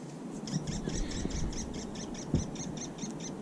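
Outdoors beside an '04 Chevy Blazer under repair, a bird repeats a steady, rhythmic chirping call about three times a second over a constant low background hum, moderately distant and alone.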